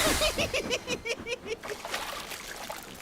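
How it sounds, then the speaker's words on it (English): A toy train tank engine splashes through a muddy rainwater puddle, giving a rapid burst of watery splashes that settles into a softer trickling wash. "Muddy rainwater had splooshed all over Emily."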